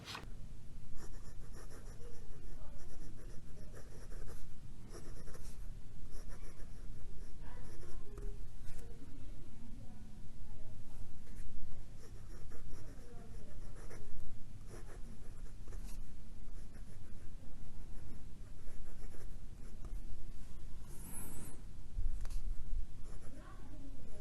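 A Parker Jotter fountain pen writes on paper, its nib skipping. A faint, steady scratching of strokes runs nearly throughout, with some light tapping and a voice speaking quietly at times.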